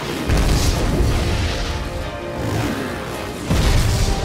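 Film explosions: deep, rumbling booms and crashing blasts roll through continuously, loud and dense, with a heavy low-end impact near the start and again toward the end.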